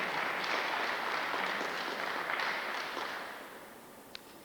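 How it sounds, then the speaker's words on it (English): A high school awards audience in Brooklyn applauds, a broad, dense wash of clapping heard from a slight distance, steady then gradually tapering off near the end. "We'll have some applause now."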